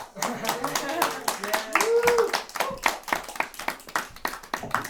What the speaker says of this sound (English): Yes, now you may clap.